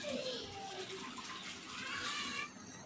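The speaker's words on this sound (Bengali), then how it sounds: "আমি এখন বেসিনটা ক্লিন করে নিব থালবাটিগুলি ধুয়ে" Dishes and bowls washed in a kitchen sink under running tap water, a steady rushing wash of water that continues throughout at moderate, close level.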